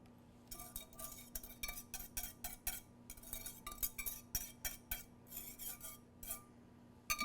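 A spoon scrapes and clinks repeatedly against a casserole dish as cooked food is scooped in, quiet and close, in a quick irregular rhythm of metallic taps with a faint steady hum behind and no talking.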